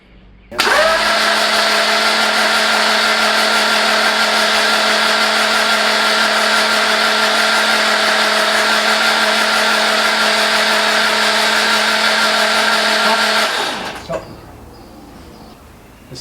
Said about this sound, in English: The starter motor certainly doesn't like it, that's for sure.